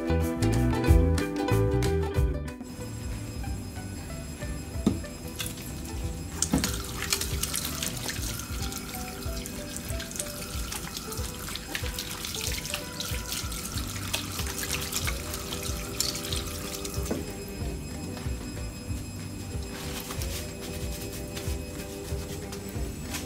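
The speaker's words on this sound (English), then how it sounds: "everybody in nursery, when they come, must wash your hands. And I'm going to show you how you do it." Tap water runs into a sink while hands are washed with soap in a nursery, a steady nearby splashing rush after a short burst of music, with occasional clatters and shifts in the flow.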